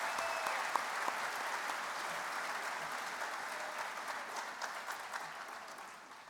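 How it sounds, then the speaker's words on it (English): Steady applause from a convention audience at a state FFA gathering, a dense, even patter of many hands clapping that slowly tapers off, heard at a moderate distance with no talk over it. "Let's give one more round of applause to the Bueller FFA chapter and a job well done."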